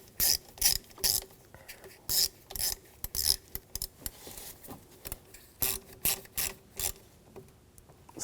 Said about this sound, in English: Get that lined up and then tighten that screw down.